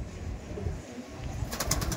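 Male Ziria-type racing pigeons at a loft give soft, low coos close by, amid background rustle, with a burst of flapping or fluttering near the end.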